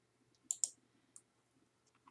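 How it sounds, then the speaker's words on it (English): Two crisp computer mouse clicks in quick succession, close and fairly quiet, followed by a fainter single click and a few soft ticks in a quiet room. "Click on the letter U"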